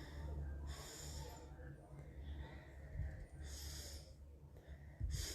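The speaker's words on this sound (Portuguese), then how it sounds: "O que tem que subir é o seu abdômen, quando você faz a respiração certa" A woman demonstrates deep abdominal breathing for labor preparation, slow heavy inhales and exhales through the nose in several long cycles, close and fairly loud, with brief pauses between breaths.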